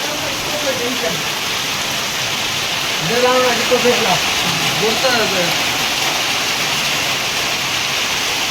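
Heavy rain pours down steadily in Daringbadi, a dense, loud, continuous rushing hiss that runs throughout, with a voice speaking briefly in the middle.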